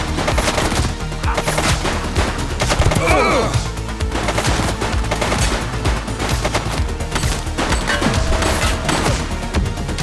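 Rapid gunfire in the police video game The Precinct, dense repeated shots and bursts throughout with crashing impacts, loud and continuous.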